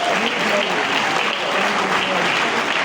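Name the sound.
audience applause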